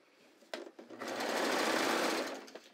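A serger runs a finishing seam on pull-on pants: a few short clicks and thumps, then a loud, close, steady mechanical whir of needles and knife for about a second and a half before stopping.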